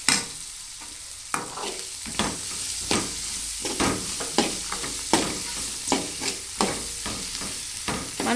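Onions frying in a pan and stirred with a spatula, repeated sharp scraping strokes over a steady sizzle, close up, with no talk.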